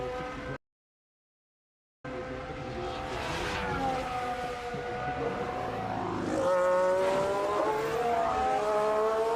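Formula 1 car on a push lap during Australian Grand Prix practice in Melbourne, braking into turn 11 while harvesting battery energy; a loud, high engine whine shifts pitch through downshifts and acceleration, after a brief dropout of silence near the start.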